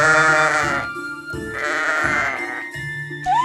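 Sheep bleating loudly and close in a Thomas the Tank Engine story, several drawn-out wavering bleats following one another with short gaps and no talk over them.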